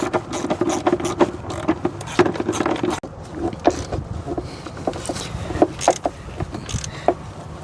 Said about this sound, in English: Start tightening it down.